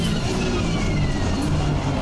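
Nissan GT-R GT3 race car in Assetto Corsa Competizione lapping the Nordschleife, its engine a steady loud drone with a rising tone, heard alone from on board.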